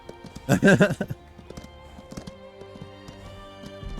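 A horse's hooves clip-clop steadily at a walking pace in Skyrim, with a voice speaking briefly over the start and quiet music underneath.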